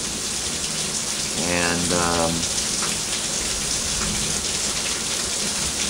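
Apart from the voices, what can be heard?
rain falling outside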